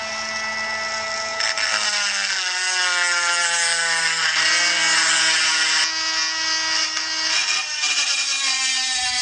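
A metal bracket for a catch can on a KLX140 mini supermoto build is ground down with a power tool: a loud, whining grind with a shifting pitch that runs in several long passes with brief dips, with no talking.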